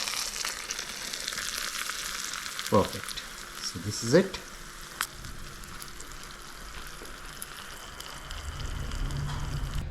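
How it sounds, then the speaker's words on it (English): Hot oil poured over chili and spices for Chinese-style chili oil crackles and sizzles in a bowl, with a couple of sharper bursts as it hits, while a person talks briefly nearby. "Wow, see the sizzling."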